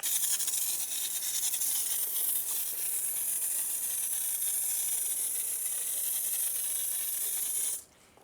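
A spray nozzle mists car cleaning chemical in one long, steady hiss, close and fairly quiet, that cuts off sharply just before the end.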